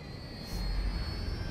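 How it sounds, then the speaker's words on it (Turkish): An airplane's jet engine in the video game GTA V gives a steady roar and whine that swells partway through and then holds at a constant level, with no talking over it. "Uçağı takip eden Trevor olacak"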